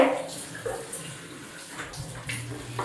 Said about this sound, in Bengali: আমি বললাম জলটা ভরছি তো